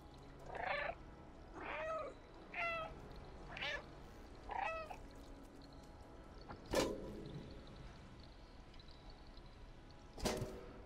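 A cat meows five times in quick succession in the video game Stray, each cry clear and close, followed by two sharp percussive knocks later on, with no talk.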